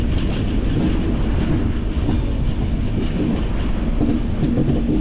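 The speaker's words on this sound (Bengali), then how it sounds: "আর আমাদের 15959 কামরূপ এক্সপ্রেস প্রায় ঢুকো করছে এনজেপিতে।" Kamrup Express train number 15959 rolls into New Jalpaiguri station, a steady loud rumble of wheels and carriages with a faint clickety-clack running throughout, heard from aboard the train.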